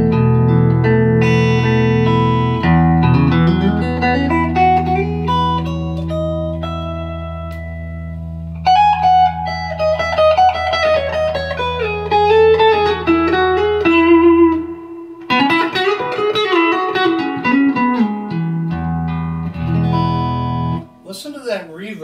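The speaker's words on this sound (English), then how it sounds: "This is middle pickup position on the Telecaster." Clean electric guitar, a Fender Custom Shop '63 Telecaster in middle pickup position, played through a Carr Super Bee 1x10 tube combo amp, sustained chords and melodic single-note lines with lush, deep reverb, loud and close, no talking.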